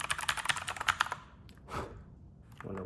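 Rapid clattering keystrokes on a Razer BlackWidow V4 Pro mechanical keyboard, loud and close, a dense burst that stops after about a second, followed by a couple of isolated clicks and handling sounds.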